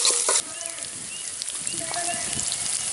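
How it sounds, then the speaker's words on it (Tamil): Small shallots sautéing in hot oil for a village-style catla fish curry, a soft steady sizzle after a brief louder clatter at the start, with faint stirring noises. "ஃபஸ்ட்டு வெங்காயத்தை வந்து நல்லா எண்ணெயில் விட்டு வதக்கிக்கலாம்"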